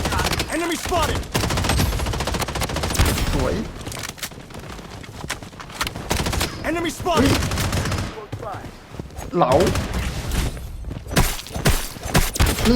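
AR rifle fire in the shooter game Blood Strike: rapid bursts of automatic shots repeating in clusters, loud and close, with a player talking between and over them.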